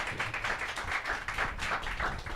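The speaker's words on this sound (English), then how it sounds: "I think it deserves a round of applause, actually" A few people clap during an interview with musicians, giving a brief, quiet patter of steady hand claps close by with no talking over it.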